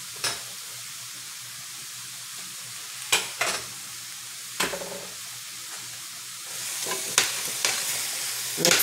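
Food coated in grill seasoning is stirred in a pan, with a steady soft sizzle and several sharp scraping knocks of the utensil, near and clear with no talking.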